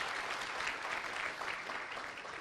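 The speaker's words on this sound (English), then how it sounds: "If you could please give them a warm round of applause." An audience at a business conference on sustainable enterprise growth applauds the panelists, a dense steady wash of clapping from a room full of people, somewhat distant and fading slightly at the end.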